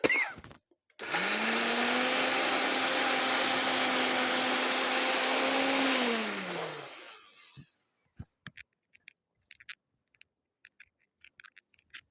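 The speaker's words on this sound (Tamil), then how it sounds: "இப்போ போய் நான் தேங்காய் அரைச்சி எடுத்துக்கிட்டு வரேன்." Coconut being ground in a kitchen mixer grinder: a loud, steady motor whine with a high-pitched blade drone for about six seconds, ending as it winds down, then a few light clicks and knocks as the jar is handled.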